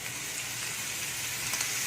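Grated carrot stir-frying in a hot pan while cooking noodles, a steady close sizzle with soft scraping of stirring, no talk.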